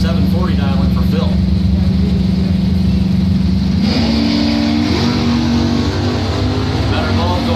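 A loud Jeep Comanche drag race run against Phil Gunther's car, engines droning steadily and then shifting up in pitch midway as they accelerate, with a track announcer talking over the roar throughout.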